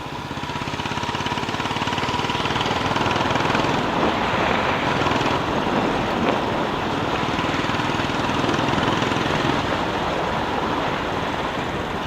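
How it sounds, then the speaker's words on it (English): An old Royal Enfield Bullet motorcycle climbs a gentle hill in top gear, its engine giving a steady, unstrained thumping drone that runs continuously and loud for about twelve seconds, mixed with wind and road rumble. "I'm at the top, I'm at the highest gear, and the engine is not at all struggling, and we are going a little uphill."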